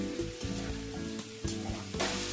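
Mixed vegetables sizzling in a pan as they are stirred with spices, a steady frying hiss broken by a few scraping stirs, with a soft musical backing underneath.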